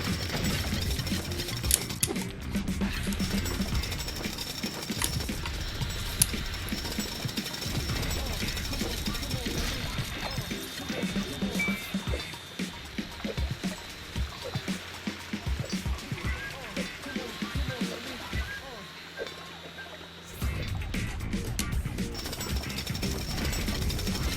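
Jackhammer in the LEGO City Undercover video game, a loud, continuous rapid hammering that runs almost the whole time with a short dip near the end, while someone talks over it.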